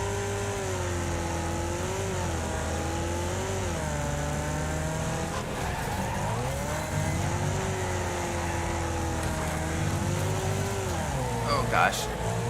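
A race car in Wreckfest accelerates through a dirt race, its engine note sweeping up and down in pitch as it revs through the gears, continuous and loud, with a voice talking over it.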